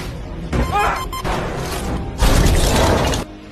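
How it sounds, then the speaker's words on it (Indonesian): An oxygen tank bursts in a depressurizing spacecraft cabin in a film scene, heard as two loud, rough crashing blasts with rumble, the second longer and heavier. "Di kabin kehilangan tekanan udara, menyebabkan tangki oksigen meledak."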